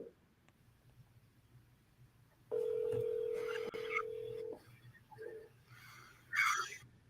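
Touch-tone telephone dialing during a live sales cold call: a steady dial tone holds for about two seconds, then several separate keypad beeps follow, fairly close and clear over a quiet room.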